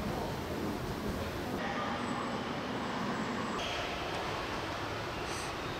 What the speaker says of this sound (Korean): 그렇게 도착한 지하철역.